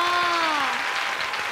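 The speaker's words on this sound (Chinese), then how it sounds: "拍手！" Studio audience applauding at a TV street dance battle show, a dense close wash of clapping that opens with a rising shouted cheer.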